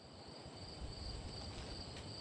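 Forest ambience in the game Daydream: Forgotten Sorrow, a steady, faint chorus of crickets and insects trilling continuously with no other sounds.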